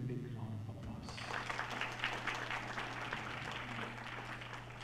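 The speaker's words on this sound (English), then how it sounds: "please give him a big round of applause." Quiet applause from an audience at a Sister Nivedita birth anniversary celebration, a steady soft patter of many hands rising after a brief hum and continuing evenly throughout.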